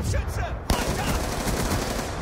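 Gunfire from a weapon in the video game Black Ops 2, a dense burst of rapid shots that starts abruptly and continues steadily, fairly loud, with a brief clatter just before it.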